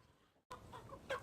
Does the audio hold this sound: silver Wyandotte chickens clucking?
yes